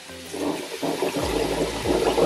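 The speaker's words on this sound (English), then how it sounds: "Pour that water in there." Water is poured into a pot of uncooked rice, giving a steady, close rush of splashing liquid that swells and dips over a couple of seconds, with no talking.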